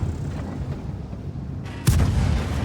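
Strv 81, a Swedish tier VIII medium tank in World of Tanks, firing its main gun: one sudden loud boom with a rolling rumble tail, set against a steady engine drone.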